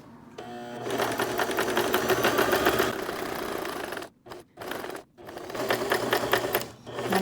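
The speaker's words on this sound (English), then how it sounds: "So with the manual machine, it's easy. I just turn the wheel, one more stitch." A manual sewing machine stitches steadily with a rapid mechanical whirr and needle chatter, loud and close, broken by a few short pauses near the end before it starts up again.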